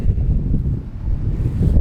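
Steady wind buffets the microphone with a continuous low rumble and roar, loud and close, with no voices.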